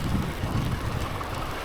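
Wind buffets an unshielded microphone in a steady, rumbling rush during a snowstorm on a winter bicycle ride in bitter cold, with no voices over it.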